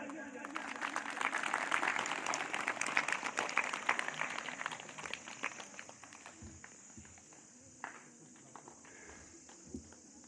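A school community audience applauding, with a fairly faint spread of clapping that fades out into sparse single claps.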